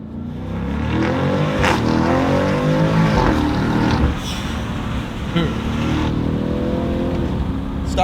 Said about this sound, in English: Turbo whistle.